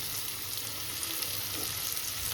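Onions frying in oil in a pan for chicken biryani give off a dense, even hiss that holds steady and close for a short stretch, with no voices.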